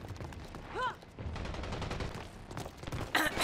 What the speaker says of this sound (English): Go shoot bad guy.